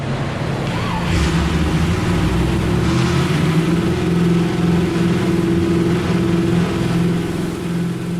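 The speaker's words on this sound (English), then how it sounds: "So we're going to fire up this Chevy small block 350 engine, and we're going to take it through the dyno cycle." Chevy small block 350 V8 running steady on an engine dyno during its warm-up cycle at about 2,500 RPM under light load, a loud, continuous droning roar that holds even throughout.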